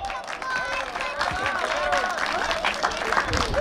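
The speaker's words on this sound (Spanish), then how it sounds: "¡Fuerte los aplausos!" Wedding guests at a celebration in Romita, Guanajuato, applaud in a dense, steady patter that lasts throughout, with crowd chatter and an amplified voice mixed through it.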